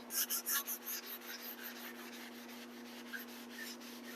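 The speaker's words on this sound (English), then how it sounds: "Just rubbing that stain in so it'll sink in." Wood stain being rubbed into a board by hand, a soft rhythmic rubbing with a few louder strokes at first, then lighter continuous swishing over a low hum, quiet and close.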